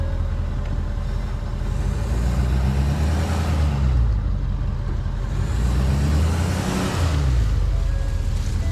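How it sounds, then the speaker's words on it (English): A loud, rumbling 1967 truck with a 6.7 Powerstroke diesel engine and an exhaust leak drives nearby, its rough exhaust note swelling and easing as it rolls along, with no talking. "Thing has a exhaust leak over here, which sounds pretty sweet."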